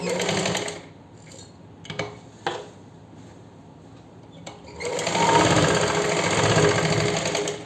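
Sewing machine stitching fabric while attaching a cloth strip to the side slits of a kameez, with short bursts of running stitches broken by pauses, then a longer steady whir up close.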